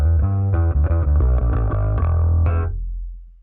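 Bass guitar heard through the woofer channel of a Line 6 Helix LT live rig, a heavy, deep-bottomed riff of repeated notes with light grit, ending in a long low ring-out.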